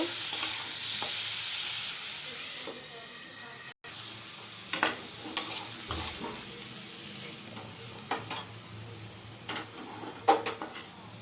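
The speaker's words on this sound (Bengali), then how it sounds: "তো এখন ভেজে নেব, ইঁচড়ের তরকারি করব।" Steady sizzle of young jackfruit frying in a pan with occasional stirring scrapes and clinks of a utensil against the pan, fairly close and continuous.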